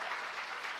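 Audience applause at a business summit, a steady wash of many hands clapping at moderate distance, brief and even with no voices over it.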